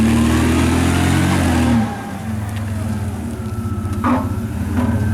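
A 2002 Lowry L155XD forklift's propane-fuelled GM Vortec V6 engine runs steadily and loudly up close, dipping to a lower idle partway through before settling into a constant rumble.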